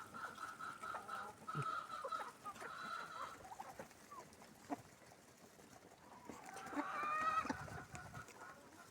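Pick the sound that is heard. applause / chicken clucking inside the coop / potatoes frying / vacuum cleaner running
chicken clucking inside the coop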